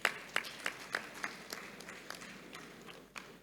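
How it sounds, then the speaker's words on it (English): Scattered audience clapping at an institute's annual general meeting, a few sharp individual claps spaced out over a faint room background, brief and sparse rather than a full ovation. "Clap now, if you have to clap."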